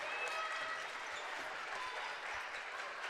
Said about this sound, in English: As a crowd fired up here,